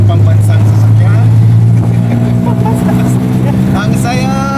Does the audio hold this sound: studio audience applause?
no